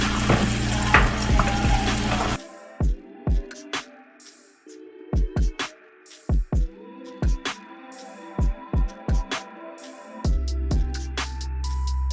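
Steak cooking with onions in a pan, a loud sizzle that cuts out abruptly, followed by a run of sharp clicks and knocks against a low hum before the frying returns near the end.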